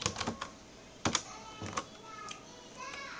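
Keys tapped on a computer keyboard while entering a drink order into a desktop program, in a few quick clusters of clicks with short pauses between them, close and fairly quiet.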